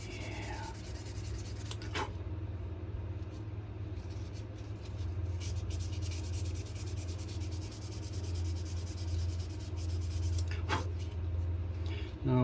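A knife handle is sanded by hand with steady, continuous rubbing strokes, close and moderately loud, over a low constant background hum.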